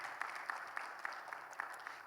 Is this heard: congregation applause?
yes